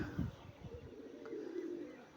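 Low, soft cooing of racing pigeons, a few murmured calls close by over a faint background hum.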